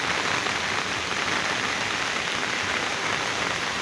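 Heavy rain from Cyclone Remal pouring down in Dhaka, a dense, loud, unbroken roar of drops hammering surfaces close by, with no voices.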